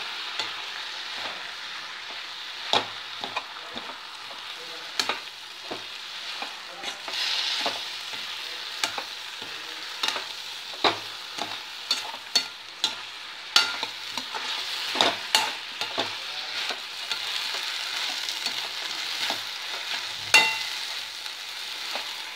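Mint leaves sauté in a hot pan with a constant soft sizzle, while a spoon stirs them in irregular scraping knocks and taps, close and clear, with no talking.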